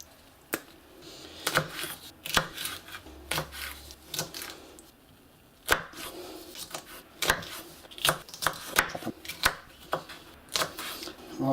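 A knife chops habanero peppers into halves and quarters on a cutting board in irregular sharp taps, some spaced apart and some in quick runs, with brief speech in between.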